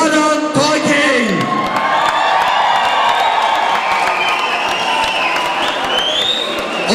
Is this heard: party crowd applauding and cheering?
yes